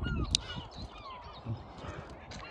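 Several birds call faintly in the distance, with scattered caws and chirps over a low outdoor rumble.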